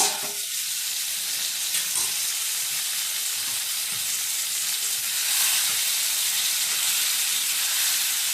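Hilsa fish and eggplant sizzle in oil in a wok just uncovered, a steady bright frying hiss with soft stirring taps beneath it and no voices.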